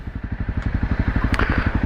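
A Honda CRF 250 dirt bike engine runs with a fast, steady pulsing beat, loud and close, with a brief sharper burst partway through and no voices.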